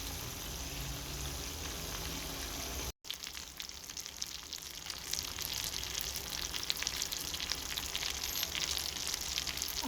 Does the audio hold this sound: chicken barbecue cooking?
yes